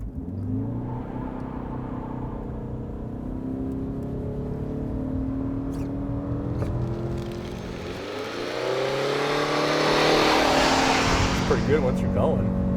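A 2022 Ford Maverick XLT hybrid, front-wheel drive with a 2.5-liter naturally aspirated engine, accelerates without launch control. The steady engine drone rises through gear changes, then climbs louder and higher with road and wind noise toward the end.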